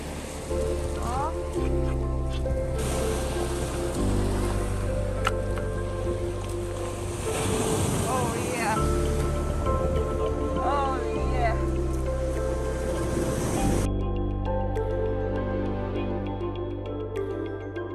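Sea waves breaking on the shore during an amber hunt, rolling surf and wind under a constant drone with occasional splashes, voices talking over it.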